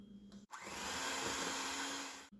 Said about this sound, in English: Now it's time to give it a shake with our hand mixer.